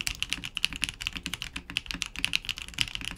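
Close, fairly quiet typing on a Vanguard 65 mechanical keyboard fitted with a PC plate, a steady stream of clacky keystrokes at an even, brisk pace with no other sounds.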